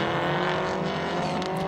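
Rallycross race cars, including a Mitsubishi Lancer and a Subaru Impreza, drive at Blyton Park with a loud, steady engine drone close by.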